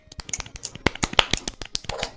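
Rapid, irregular finger snaps from several people at once, crisp and close, overlapping into a scattered crackle.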